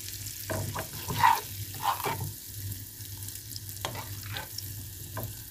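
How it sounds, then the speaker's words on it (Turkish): Spice mix of red pepper, chili flakes, cumin and black pepper frying in hot oil, a steady close sizzle with a few louder crackling bursts and stirring, no talk. "Bu baharatımı kırmızı biber, pul biber, biraz kimyon, karabiber karışımımı böylece yağın içine boşalttım ve"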